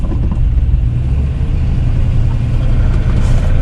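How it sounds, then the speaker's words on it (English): A project car's engine idles roughly with a deep, steady low rumble close by, the idle sagging slightly as it runs on alone. "idles is dropping a little too quick there"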